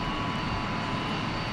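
A steady, loud drone of an airliner's engines, heard from inside or near the plane on a flight from Europe toward Los Angeles and Tahiti, a continuous roar alone without speech.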